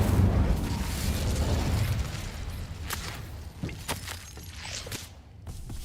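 Incendio fire spell cast in Hogwarts Legacy, a burst of fiery whooshing and popping at the start that fades into crackling bursts and scattered sharp pops.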